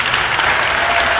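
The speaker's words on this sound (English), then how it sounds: "could I please ask you to give another round of applause to our rapporteurs" A conference audience applauds the rapporteurs at a closing session, a loud, even burst of many hands clapping together, close and continuous without talk.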